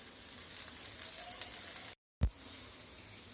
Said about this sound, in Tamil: எண்ணெய் விட்டுட்டு நல்லா கோல்டன் ப்ரௌன் ஆனதுக்கப்புறம் நம்ம திருப்பி விட்டுடலாம்